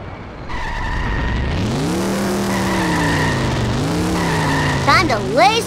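Cartoon car tires in The Simpsons squeal in long, rising and falling screeches over a revving engine, loud and close, with a brief voice sound near the end.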